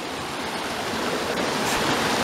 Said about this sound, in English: Another creek crossing.